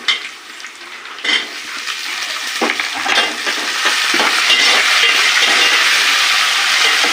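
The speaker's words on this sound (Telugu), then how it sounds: "ఉల్లిగడ్డలు కొద్దిగా వేగినాక మనము టమాటాలు వేసుకుందాము" Tomatoes tipped into a pan of frying onions and stirred, starting with a few scrapes and clinks, then building into a loud, steady sizzle that fills the rest, up close with no talk.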